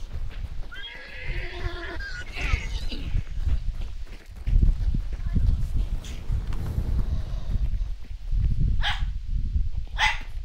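Dogs in the video game Hunt: Showdown bark in short bursts at a moderate distance, mixed with rough animal calls and whinny-like cries, under ongoing game noise and occasional voices.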